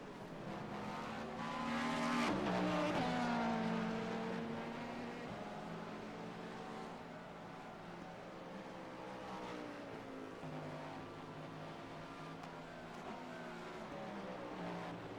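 LMP2 prototype race car in an IMSA sim racing game braking hard for a corner and running onto the grass, engine note swelling then dropping with tire scrub and skid, loud and continuous throughout with no talk.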